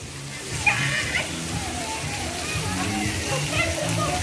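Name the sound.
water flowing and splashing at an aquapark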